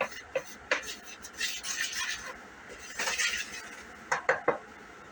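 A utensil stirs paprika into a flour mixture in a mixing bowl, giving faint scraping swirls and a few light clinks against the bowl, close and quiet, with no talk.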